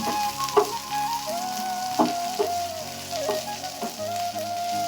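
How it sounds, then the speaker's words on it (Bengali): Curry leaves sizzle steadily in hot oil in a pan over lowered gas while being cooked for masala dosa, with stirring scrapes every second or so over the constant frying crackle. "গ্যাসটা একটু কমিয়ে দিলাম একটু নাড়াচাড়া করে দেবো কারি পাতাগুলো"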